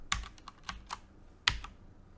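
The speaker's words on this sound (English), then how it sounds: "I'm pressing all the keys." Several separate key presses on a computer keyboard, quiet and close, with sharp clicks spaced irregularly and one louder press near the middle, no voices.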